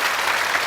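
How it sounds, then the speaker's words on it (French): Short burst of dense applause from a studio audience at a Burkina Faso television entertainment show, loud and steady throughout with no pauses or distinct single claps. "on va applaudir très très fort."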